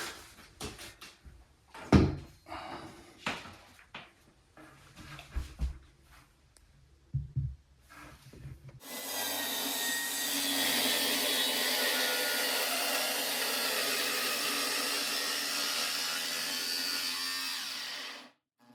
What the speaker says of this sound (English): The tools you need is a power drill and the 2-inch hole saw